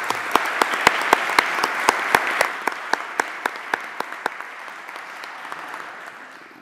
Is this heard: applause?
yes